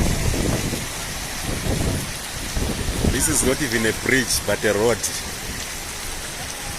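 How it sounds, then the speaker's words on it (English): Steady rain hisses down during severe flooding in southern Africa, loud and continuous, with someone talking over it midway. "It's raining again."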